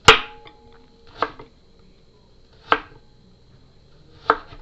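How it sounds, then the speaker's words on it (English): Three sharp knife chops through vegetables and fruit land on a cutting board with long pauses between them, close and crisp against a quiet background. "I just have fun chopping up vegetables and fruit"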